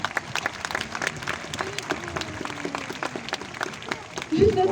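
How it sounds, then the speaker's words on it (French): Crowd applause at a California sea lion show, steady clapping from an audience, moderately loud, with cheering voices and a rising burst of noise near the end. "je pense qu'on peut applaudir très très fort les filles pour ce geste"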